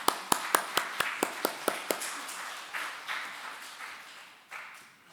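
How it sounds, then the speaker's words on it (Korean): A church congregation at Sunday worship claps in a quick, even rhythm of crisp beats, then breaks into a looser, fading scatter of applause. "여러분 박수로 환영해 주시기 바랍니다."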